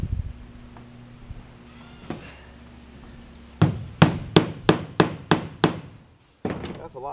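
Hammer strikes during roof repair work: one isolated blow, then a run of seven sharp, evenly spaced hits, close and loud, followed by a brief pause and a couple more knocks.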